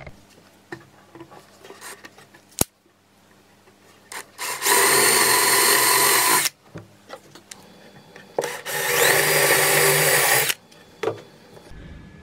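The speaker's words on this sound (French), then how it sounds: "on va repartir sur le percer cette plaque au fond pour pouvoir mettre la tige filetée" Power drill boring holes through a plate for threaded rod in a miniature ski station build: two loud, steady drilling bursts of about two seconds each, with small clicks, taps and handling noises between them.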